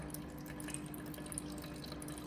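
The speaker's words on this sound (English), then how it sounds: "Notice there's water, sort of a light coloured liquid coming out." Light-coloured liquid runs from the delivery spout of a Tethys H10 chemical dispenser in a faint, steady trickle with scattered splashy ticks, heard alone over a low background hum.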